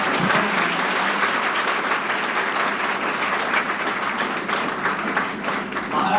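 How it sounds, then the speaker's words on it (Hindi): An audience at a career academy in Sikar claps loudly and continuously to welcome a saint, a dense sustained round of applause filling the room from start to finish. "एक बार जोरदार तालियों के साथ उनका स्वागत करें"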